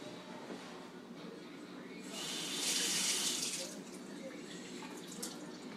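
Cold water runs from a kitchen tap for a few seconds, a steady hiss that swells as the flow opens and then eases, close by, with a low room hum underneath.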